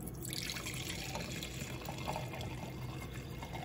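California Chardonnay white wine being poured generously into a glass, a continuous splashing trickle of liquid at close range, fairly quiet and heard alone.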